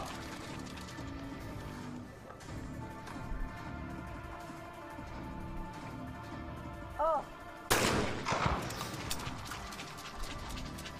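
Shotgun blasts from a women's trap shooting final at the 2021 Chinese National Games ring out at moderate distance, with one loud report and a burst of sharp follow-up cracks over steady arena ambience and a brief whistle-like tone.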